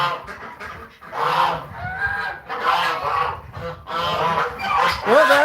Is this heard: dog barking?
no